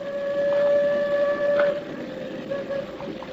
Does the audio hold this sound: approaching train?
yes